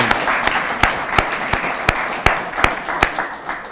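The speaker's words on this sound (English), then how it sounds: "Everybody, let's clap it up for our basketball" A crowd at the 2017 Mount Vernon, NY State of the City Address applauds the state champion Mount Vernon basketball team, with sharp, evenly timed claps beating over a steady bed of general applause.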